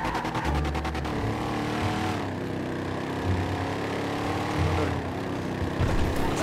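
Lamborghini supercar engine in GTA 5, a loud, steady close-up engine drone that swells and shifts pitch as it revs, with no talking.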